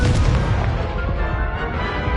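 A Confringo blasting spell explodes in the Hogwarts Legacy video game, a loud, heavy booming blast with a sustained rumbling roar that fills the whole stretch without a break.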